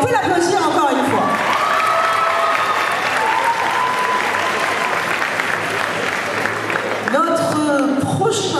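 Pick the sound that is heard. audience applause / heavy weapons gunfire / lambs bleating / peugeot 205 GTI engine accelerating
audience applause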